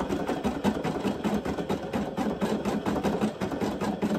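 A Brother PE800 embroidery machine stitches a design onto a T-shirt with a rapid, steady mechanical chatter of needle strokes, close and even throughout, with no talking.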